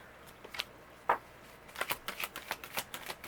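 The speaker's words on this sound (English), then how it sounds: "it can be hard on my wrist to hold such a thick deck while shuffling" Shuffling a thick deck of cards, with a few scattered flicks and taps followed by a quick run of rhythmic riffling snaps, close up and crisp, with no talking.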